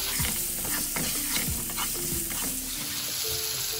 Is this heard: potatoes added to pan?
yes